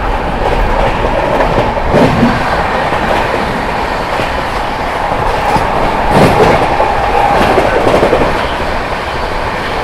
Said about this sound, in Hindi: बरौनी नई दिल्ली क्लोन पूरी रफ्तार में 130 की रफ्तार में स्किप करने जा रही है फिरोजाबाद को